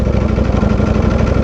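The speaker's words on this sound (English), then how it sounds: "Bike is idling the best it has." A Ducati V4R motorcycle engine idles close and loud, with a steady, rapid, throbbing pulse and no voices.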